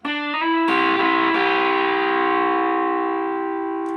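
Distorted electric guitar notes ringing together as a sustained, bluesy two-note chord, loud and close, slowly decaying with no talking.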